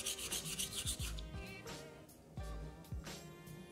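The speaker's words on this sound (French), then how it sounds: "on commence avec nos va-et-vient des deux côtés et on va vérifier si notre marqueur s'est bien enlevé de manière uniforme" A steel straight razor, a Permedge United Drug, rasps on a sharpening stone in steady back-and-forth honing strokes on both sides of the blade, close up and fairly quiet, with no talking.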